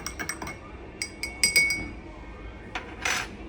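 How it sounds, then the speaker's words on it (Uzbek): A spoon stirs creatine powder into water in a glass, giving quick, bright clinks against the glass, first in a fast cluster and then a few scattered taps, close and clear. "Qimmat kreatinni aralashtiramiz"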